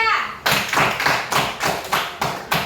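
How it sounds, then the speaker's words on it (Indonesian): A classroom group of children claps for group 3, a rhythmic series of about seven sharp, evenly spaced bursts of hand claps, close and fairly loud. "Ya, kasih tepuk tangan untuk kelompok 3."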